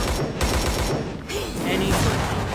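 Gunfire breaks out during a battle in the anime Youjo Senki, with a rapid, dense fusillade of shots rattling on loudly and without pause under a busy soundtrack mix.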